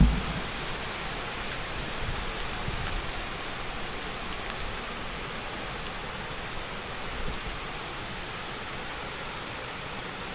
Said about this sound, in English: There's actually another set of falls right down here.